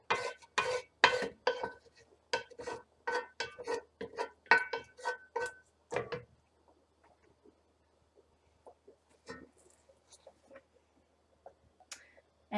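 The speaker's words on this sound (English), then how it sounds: "So I'm just going to bring my whole pot and dump it in there. And scrape up any of those good spices sticking to the bottom of the pan." A pot of black bean soup is tipped out and a utensil scrapes spices from the bottom of the pan, a burst of clanking metal scrapes and knocks up close, then sparse, fainter taps.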